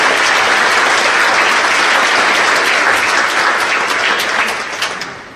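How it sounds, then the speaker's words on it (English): An audience at Mayor Robert Garcia's 2017 State of the City address claps loudly in a dense, sustained round of applause that tapers off near the end. "Let's give our technology folks a big round of applause for their work."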